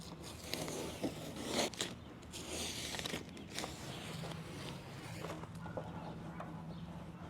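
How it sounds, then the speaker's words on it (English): Masking tape peeled off car headlights after a lens restoration: faint, drawn-out tearing and ripping strips close by, with scratchy rasps repeating over several seconds in a quiet setting. "Now we're going to take the masking tape off."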